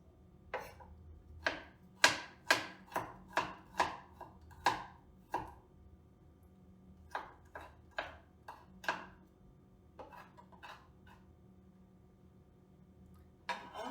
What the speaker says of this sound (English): This is the garlic. Also make sure you cut it very thin and chop it in random smaller pieces.